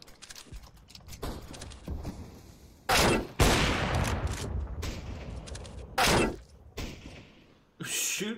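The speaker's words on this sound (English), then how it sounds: "Will you stop shooting me, please?" Video game gunfire from PUBG, ROE or CS:GO bursts out in loud, dense volleys between quieter scattered shots, several heavy blasts spread across the stretch.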